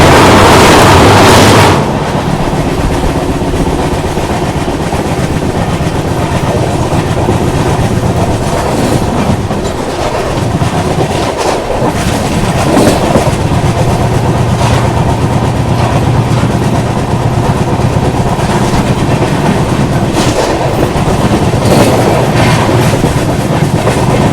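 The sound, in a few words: train crossing a bridge, wheels clickety-clack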